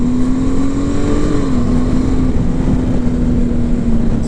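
A Honda Gold Wing DCT motorcycle engine runs loud and close at a steady high rev, a sustained droning hum that dips slightly in pitch midway, with no talk.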